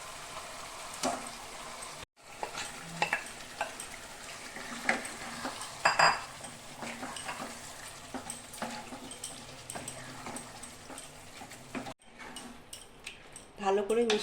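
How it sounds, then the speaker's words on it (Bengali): Chicken tipped into a pan of well-fried onions and stirred for a white chicken curry, with an ongoing sizzle, scraping spoon strokes and pan clatter as someone speaks at times. "পেঁয়াজটা আমার ভালো করে ভাজা হয়ে গেছে। এখন আমি চিকেনটা দিয়ে দিব।"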